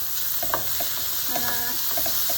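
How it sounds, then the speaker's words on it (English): A spatula scrapes and stirs sizzling beets, onions and carrots in a pan for vegetarian borscht, with a steady frying hiss and a few distinct scraping strokes up close. "And I'm gonna mix it with a spatula."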